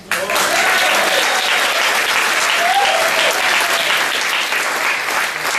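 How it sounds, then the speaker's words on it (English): Wedding guests giving a round of applause during a best man's speech, a loud, dense, sustained burst of clapping from a crowd that holds steady throughout with occasional voices mixed in. "Can I have a round of applause,"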